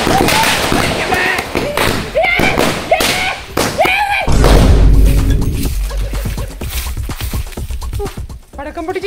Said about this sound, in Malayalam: പടക്കം പൊട്ടിച്ച് വീട് മുഴുവൻ ചവറ് തന്നെ.